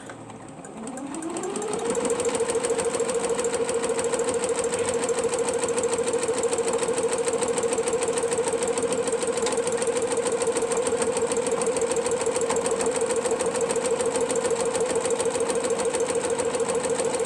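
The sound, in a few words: sewing machine stitching quilt pieces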